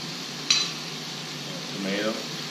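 Vegetables and mushrooms sautéing in a pan for Thai drunken noodles, a soft steady sizzle with one sharp utensil clack early on and a light scraping stir later.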